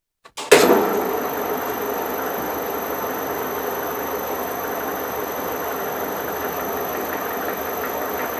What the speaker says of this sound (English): So whenever I turn the lathe on here,